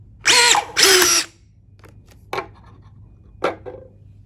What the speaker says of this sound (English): we're going to pull and hold the trigger until the rivet nut has set and unwound out of the job.